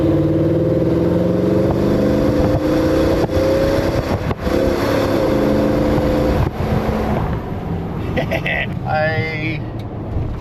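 A Toyota Tundra V8 pickup accelerates hard, its engine drone steady and loud throughout, with a tonal whine rising near the end; a person talks over it.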